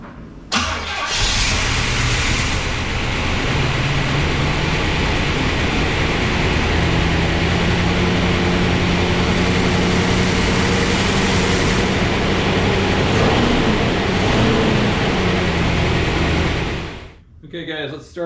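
A 1976 Pontiac Firebird's 350 V8, freshly resealed, runs steadily and loud for about sixteen seconds with a constant idle drone and faint mechanical clatter before cutting off near the end.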